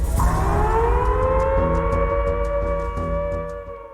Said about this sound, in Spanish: una sirena comenzó a sonar alrededor del campo de prisioneros